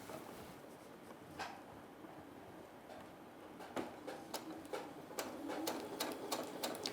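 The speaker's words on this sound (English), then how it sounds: "I'm going to continue to sew around the entirety of the circle" A sewing machine stitches a seam around a circular bonnet piece, quiet at first, then a burst of rapid, rhythmic needle clatter in the latter half, close and fairly soft, with no talking.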